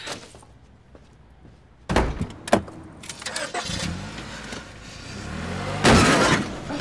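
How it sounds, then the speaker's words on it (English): A car backs into a parked car in a TV drama scene. A few sharp thuds and metallic knocks stand out over a low engine hum, followed by more scraping clunks and a louder rumbling burst near the end, with no talking. "you just hit my car"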